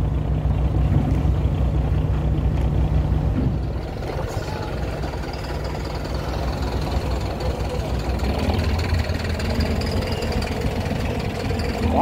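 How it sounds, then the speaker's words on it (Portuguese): A ferry boat engine drones and knocks steadily at a low pitch, with churning water noise around it, continuous and fairly close, on a ferry crossing to Juréia carrying trucks. "Olha o fluido da água, do motor que faz na água."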